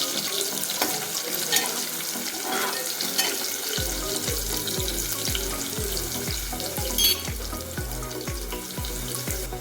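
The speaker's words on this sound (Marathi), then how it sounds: "आपण लसणाच्या 4 पाकळ्या ठेचून घेतलेल्या आहे आणि टमेटा टाकत आहे" Tomato is tossed onto crushed garlic frying in a pan, producing a constant loud sizzle with occasional stirring, then a run of soft rhythmic low thumps in the second half.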